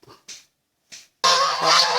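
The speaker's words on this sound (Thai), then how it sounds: "โอ้มาแล้วครับห่านนะครับ" Geese honk on a farm orchard: a few short, separate calls come first, then a loud, sustained chorus of harsh honking from several birds close by.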